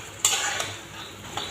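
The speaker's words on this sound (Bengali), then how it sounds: "সব মাংস ভালো করে নেড়ে চেড়ে দিচ্ছি" Deshi chicken meat stirred in a pan for bhuna, with a steady sizzle and a few sharp utensil scrapes and knocks against the pan, close and fairly loud, with no talking.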